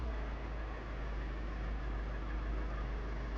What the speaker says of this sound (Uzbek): Ovozlarni eshitishingiz mumkin, motor qismini.